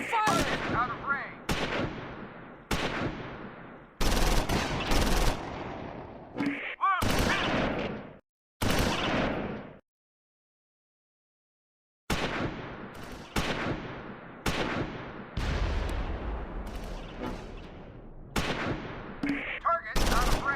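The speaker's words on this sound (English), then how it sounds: "We're under heavy fire!" Gunfire in Close Combat 4, a Battle of the Bulge game at Esch-sur-Sûre in December 1944: repeated loud bursts and single shots come close together, some with heavy booms, stop for a short silence, then resume in a quick run of rapid reports.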